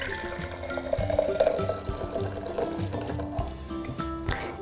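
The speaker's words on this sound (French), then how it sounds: "je verse cette première partie dans ma tasse" Hot tonic drink, resembling hot chocolate, poured from a blender jug into a mug: a steady liquid splash and gurgle lasting several seconds at close range, with no talking.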